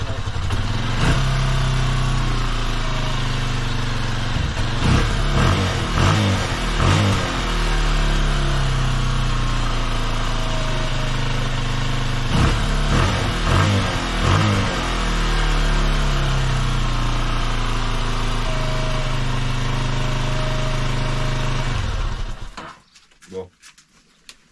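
A Honda XR125L motorcycle engine running close by with a steady low rumble and irregular idle, occasional revving bursts, cutting out near the end; people talk over it.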